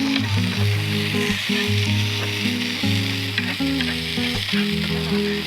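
Garlic sizzles and fries steadily in a hot pan, a dense continuous crackle with occasional stirring scrapes, close and fairly loud, with no talking.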